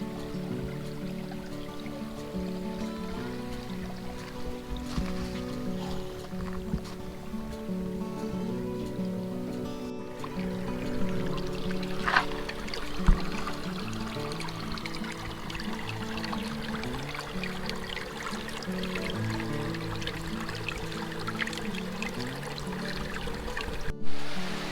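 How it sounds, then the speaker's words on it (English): A small creek runs through Wanoh State Park woods in Washington, a soft, steady trickle and babble of water holding at an even, fairly quiet level throughout. "Little creek running through here."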